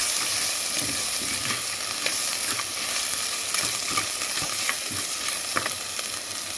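Garlic, pepper and tamarind sizzle steadily in a frying pan for rasam, with a spoon stirring and scraping through the continuous crackle at close range.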